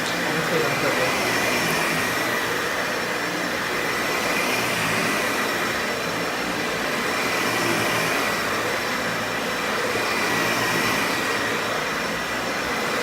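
A Dyson Ball Animal upright vacuum cleaner runs on carpet, a loud, steady motor roar with rushing airflow that swells slightly as it is pushed back and forth, continuing without pause throughout.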